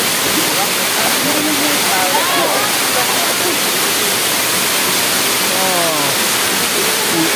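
Daranak Falls waterfall roars as a steady, loud broadband wash throughout, with faint voices talking beneath the constant rush of falling water.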